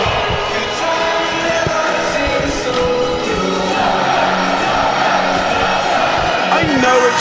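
A packed stadium crowd at an NFL game in Dublin, Ireland, Vikings against Steelers, sings along to a song at the two-minute warning. The mass of voices is loud and steady, with a nearby voice talking over it.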